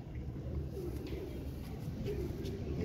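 A Royal Teddy breed pigeon coos softly, with low, faint cooing notes over a dull background hum and murmur, some faint voice nearby.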